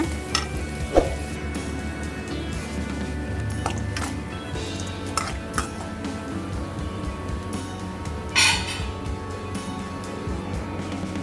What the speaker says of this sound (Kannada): ಆಯಿಲಲ್ಲಿ ರೋಸ್ಟ್ ಆಗಬೇಕು ಗೋಲ್ಡನ್ ಕಲರ್ ಬರೋ ತನಕ ರೋಸ್ಟ್ ಮಾಡ್ಕೋಬೇಕು ಆಯಿಲಲ್ಲಿ ಈರುಳ್ಳಿನ